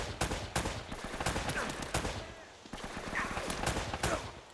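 Bursts of video game gunfire from Uncharted: Drake's Fortune, sharp repeated shots in uneven clusters at moderate loudness, with a few spoken sounds mixed in.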